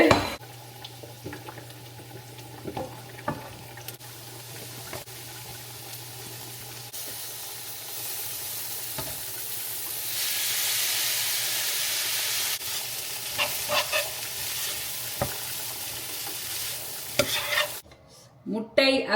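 Ragi noodles fry and temper in hot oil in a pan, a continuous sizzling hiss that swells in the middle, punctuated by scraping stirs and clinks of a utensil, close and without talk.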